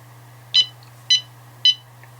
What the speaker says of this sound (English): This is its beep sound. Trust me when I say it is pretty damn loud.